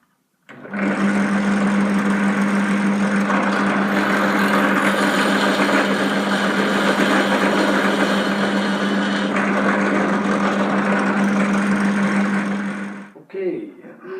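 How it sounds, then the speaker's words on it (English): Drill press drilling into a block of wood, a steady loud motor whine with a strong constant hum that runs continuously for about twelve seconds, then winds down and stops. "I own this drill press"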